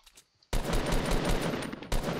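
Automatic gunfire in the Fortnite video game bursts out after a short quiet moment. It comes as a loud, dense, continuous rattle of rapid shots, breaks off briefly, then starts again with no talk.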